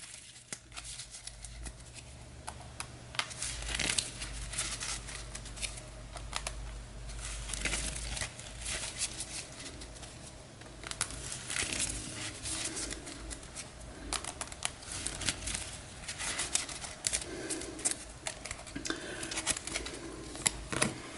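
Cards from an orange encounter deck in an Arkham Horror board game being shuffled, a continuous riffling and papery patter with crisp flicks throughout, close and moderately loud.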